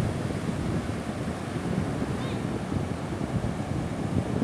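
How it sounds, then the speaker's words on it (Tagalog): Heavy ocean surf roars steadily, a dense, unbroken rush of water mixed with wind buffeting the microphone. "Ang lalaki ng alon"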